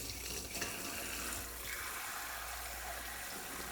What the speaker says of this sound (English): Once that's been rubbed and in place, it's time to rinse.